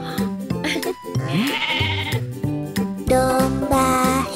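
Cartoon sheep bleat at a children's farm park, wavering sung bleats mixed with a bright musical backing, fairly loud and continuous.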